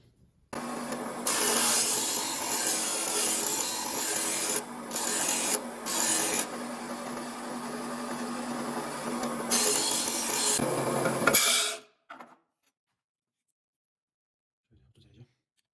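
Steady abrasive rasping of woodworking chisels being ground and sharpened at a 45-degree bevel, loud and continuous with a few short pauses, then cutting off into near silence with a faint scrape near the end.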